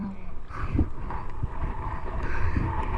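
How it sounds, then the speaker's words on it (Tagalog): Strong wind buffets the microphone on a small fishing boat at sea, with a steady roar and rumbling gusts throughout, broken by faint knocks and splashes. "Grabe yung hangin."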